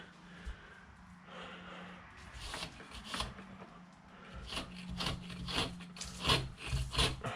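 Dried plaster filler being scraped off a wall by hand during drywall finishing, heard as rough rasping strokes that grow denser and louder toward the end, close and alone with no talk.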